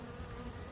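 Honey bees swarm around a requeened backyard hive, giving a dense, steady, close buzzing drone with no pauses or voices.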